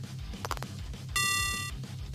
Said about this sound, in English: Hang up the phone, Mika.